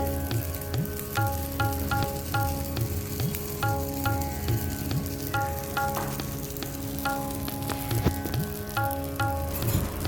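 Thick rava dosa frying in ghee on a pan, a loud, steady crackling sizzle close by with scattered pops and faint utensil ticks, no voices.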